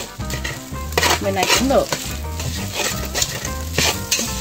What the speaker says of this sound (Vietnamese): Xào vô.